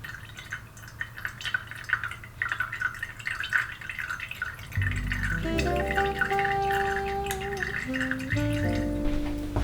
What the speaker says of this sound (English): While that is dripping